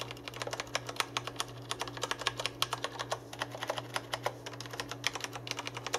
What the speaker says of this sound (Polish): Jeśli chodzi o głośność, mamy tutaj Cherry MX Brown,